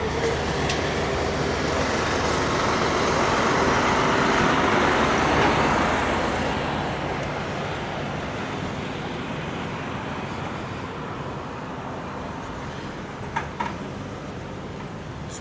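Steady road traffic at a busy intersection on Dave Nisbet Drive near the Port Canaveral cruise terminals: a continuous broadband roar of passing vehicles, swelling slightly midway and then settling, with no voices.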